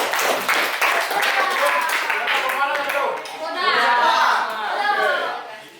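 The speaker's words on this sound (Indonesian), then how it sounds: "Baik, tepuk tangan." A classroom of children claps together in a dense, steady patter after a reading, with chatter and a few chuckles mixed in.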